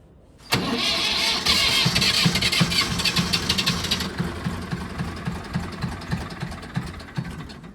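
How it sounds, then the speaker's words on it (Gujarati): A tractor engine cranks and catches abruptly, then settles into a loud, rough, chugging idle that continues steadily. "ટ્રેક્ટર ચાલુ થઈ ગયું"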